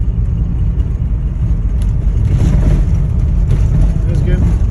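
A 1990 Volvo 740 turbo wagon is driven on the road. A loud, steady engine drone and road rumble fill the cabin throughout.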